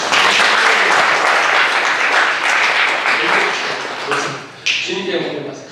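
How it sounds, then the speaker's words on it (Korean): A church congregation claps together in sustained, dense applause that fills the room, tapering near the end as a few voices rise over the fading claps. "우리 주님께 영광의 박수 보여주십시오."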